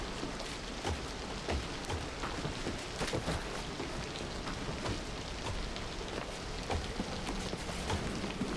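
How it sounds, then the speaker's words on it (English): Acid rain falls steadily in the video game The Tarnishing of Juxtia, a dense, even hiss of drops spattering across surfaces with scattered sharper patters, no voices. "Is it raining acid or are they drying instantly?"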